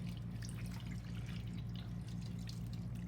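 Soapy hands rinsed under running tap water, a steady close splash and trickle from the faucet with faint drips, no talking.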